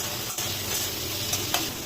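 Steady sizzling of chopped garlic frying in hot oil, with occasional stirring scrapes, continuous and close.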